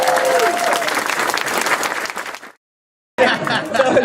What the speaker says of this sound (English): give a round of applause to my store team